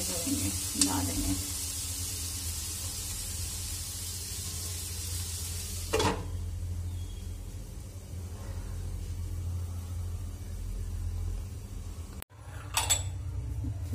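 Tomatoes and masala sizzle in a pan for kadhi, a steady low frying hiss over a low hum, with a couple of brief utensil clatters breaking the flow.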